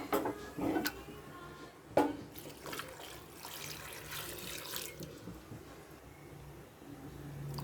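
Hot water pouring steadily into a vessel after a couple of knocks and clatters, with a continuous splashing flow and no talking.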